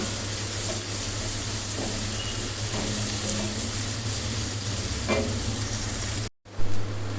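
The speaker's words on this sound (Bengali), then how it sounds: "সতে করে নিতে হবে পেঁয়াজটা একটু হালকা কালার চলে মানে পেঁয়াজটা নরম হয়ে আসলে" Chopped onion sautéing in a frying pan, a steady close sizzle with occasional scrapes of stirring and a low hum beneath, briefly cut out near the end before resuming.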